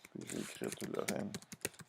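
Computer keyboard typing, a quick brief run of clicks heard under a person talking close by.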